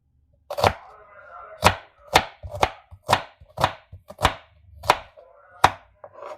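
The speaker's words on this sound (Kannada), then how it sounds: "ಈರುಳ್ಳಿ ಕಟ್ ಮಾಡ್ಕೊಳ್ಳೋಣ. ಫಸ್ಟು ಚಿಕ್ಕ ಕಟ್ ಮಾಡ್ಕೊಳ್ಳೋಣ" A knife chops onions on a board in about ten sharp, distinct strikes at an uneven rhythm, close and crisp with short gaps of quiet between the cuts.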